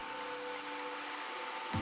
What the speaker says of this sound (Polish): Po dokładnym spryskaniu przystępuję do odkurzania.